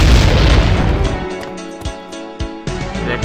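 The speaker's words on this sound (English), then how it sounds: "Quickly, they're bombing!" Bombing in an Amnesia custom story game, a loud deep rumbling boom fading out, followed by several sharp thuds and cracks of debris.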